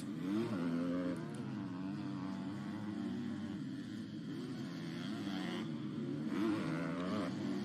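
Motocross motorcycles race past at an Estonian championship round, engines droning and revving steadily with rises and falls as bikes pass, moderately distant and continuous.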